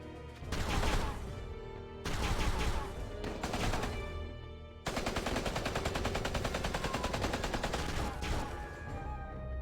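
Soldiers fire a volley of guns in the War of the Visions FFBE game, heard as three dense bursts of rapid, overlapping shots, the last running long and steady with even rhythmic reports.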